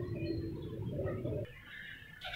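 Pigeons or doves cooing at a pigeon street market, a steady low murmuring coo continuing close by with no talk, followed by a brief higher shift near the end.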